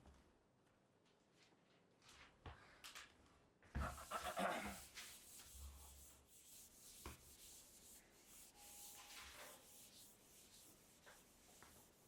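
A board eraser rubs and scrubs across a lecture-room board in bursts of dry scraping, loudest in one vigorous stretch and then continuing in fainter strokes.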